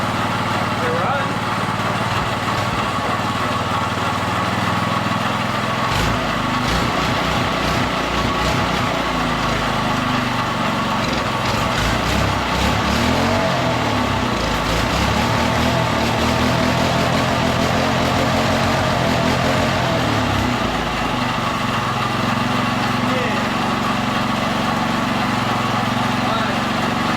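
A small single-cylinder minibike engine runs steadily after starting on starting fluid, a buzzing, close, continuous putter that rises and falls slightly, with someone talking over it.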